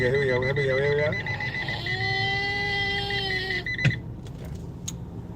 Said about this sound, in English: where's the long beep? Here we go.